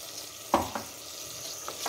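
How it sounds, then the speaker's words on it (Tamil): Chopped vegetables sautéing in a pan for veg kurma, a soft continuous sizzle with a couple of sharp stirring clinks. "பாருங்கள் நல்லா வதங்கியிருக்குது வெஜிடபிள்ஸ் எல்லாம்"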